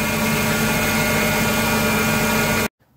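A car engine idles in a steady, loud, even drone with a constant low hum, ending abruptly near the end.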